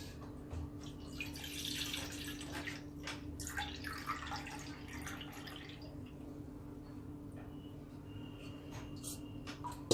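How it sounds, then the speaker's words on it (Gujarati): Jaggery water being poured through a strainer to remove debris gives a steady, close trickling and dripping of liquid that runs the whole time, with a few light clinks near the end. "આપણે પહેલાં આ પાણીને થોડું ગાળી લઈએ"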